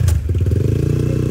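A motorcycle engine pulling away, a low throbbing exhaust note that steadies into a continuous close rumble after a brief clatter at the start.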